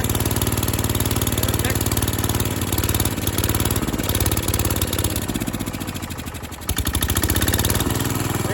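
Close, loud 1968 Case 155 tractor engine idling with a rough, rapid chugging rhythm, steady throughout with a brief dip and recovery near the end.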